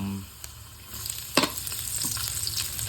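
Ginger pieces fry in a hot pan with a steady sizzle, a sharper burst of crackling near the start giving way to a continuous close, bubbling hiss.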